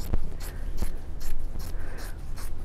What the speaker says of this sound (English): I am going to just take a scissors and cut this